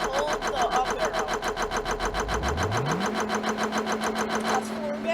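A vehicle engine in the Stormworks video game starts up, its rhythmic chugging rising in pitch and then settling into a steady mechanical drone, loud and close with no talking.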